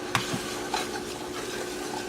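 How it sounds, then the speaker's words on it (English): Flour being whisked into a roux in a pan over medium heat for a garlic mac and cheese sauce: soft, faint scraping and stirring with a few light taps of the whisk against the pan. "Whisk that all around"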